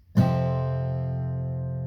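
A single guitar chord with one muted string strummed once and left ringing, sustaining steadily and slowly fading over nearly two seconds with no other sounds.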